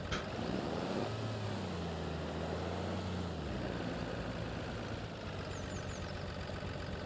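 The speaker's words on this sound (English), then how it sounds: "Let's reverse our trailer a bit." A tractor in a farming video game reverses a trailer, its engine droning steadily and close, with the pitch dipping and rising as it shifts and backs up.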